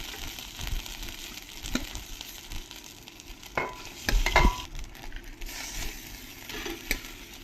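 Grated mango sautéed in ghee over medium heat, a low sizzle with irregular stirring scrapes and knocks of a spoon against the pan, louder in the middle, close by.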